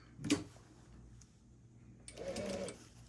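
A sewing machine stitches a seam on leather sleeves in two short bursts, a brief whir near the start and a longer run later, with quiet ticking in between.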